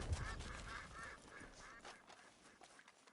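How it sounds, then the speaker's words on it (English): Flock of ducks in a hunting video game, their repeated nasal quacks and honks overlapping in quick bursts before fading, fairly faint and with no talk over them. "Trying really hard not to get distracted by all the ducks."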